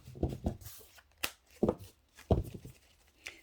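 A deck of tarot cards being shuffled by hand, several short papery riffles and soft slaps spaced apart, close and quiet with no talking.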